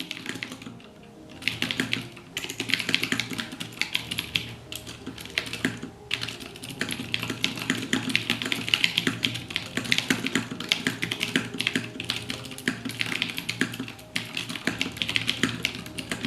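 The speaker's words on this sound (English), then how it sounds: "now a typing demo of these vintage 12+ year old Cherry" Steady, continuous typing on a vintage mechanical keyboard with Cherry MX Silent Blue switches over 12 years old, dense muted clicks in quick rhythm, close up with no voices.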